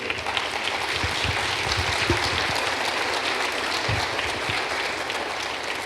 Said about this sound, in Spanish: Le damos a Dios un aplauso.